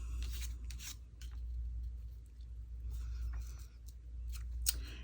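Scissors snip and trim paper for a handmade fairy door craft in a series of short crisp cuts, close and fairly quiet over a low steady rumble.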